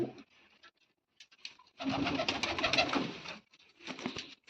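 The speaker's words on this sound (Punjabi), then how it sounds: "ਬੜਾ ਤੇਜ਼ ਕਬੂਤਰ ਆ" Pigeons coo close by in soft, throaty bursts, a short call followed by a longer rolling coo, then another brief one.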